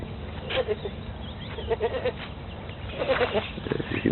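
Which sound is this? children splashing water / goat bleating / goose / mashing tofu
goat bleating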